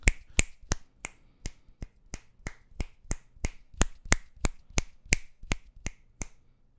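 Sharp finger snaps repeat steadily, about two or three per second, crisp and close with quiet gaps between them, picked up by an Antelope Edge modeling microphone.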